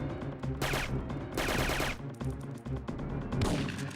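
Gunfire in Syphon Filter 3 on PS1: loud, dense bursts of shots in repeated volleys over steady game music, with several heavy clusters close together.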